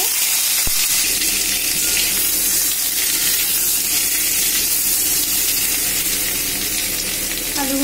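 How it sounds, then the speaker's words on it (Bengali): Boiled potatoes fry in mustard oil in a kadai, producing a continuous, fairly loud sizzle and crackle that stays even from start to end, with no speech. "ওই তেলেই আমি সিদ্ধ আলুগুলো ভাজব।"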